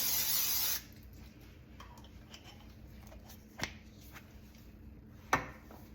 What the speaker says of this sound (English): So I'm just going to spray my pot here.